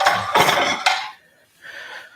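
Plates clatter and clink as they are set down on a kitchen counter, two or three quick ceramic knocks close by, followed by quieter rattling.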